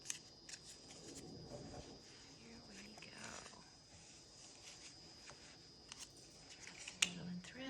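Sharp scissors snipping through felt to cut out a handle shape for a gift bag, producing soft, quiet crunching cuts under faint background hiss, close to the listener.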